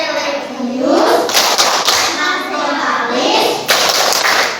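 Fifth-grade schoolchildren in a classroom chant the PPK clapping routine together, their voices rising and falling in unison over quick bursts of rhythmic hand claps.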